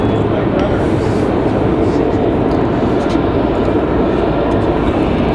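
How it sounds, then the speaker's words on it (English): A Piper Seminole twin-engine light aircraft departs from Raleigh-Durham International Airport, its steady, loud engine roar filling the whole stretch as a broadband drone. "Piper Seminole."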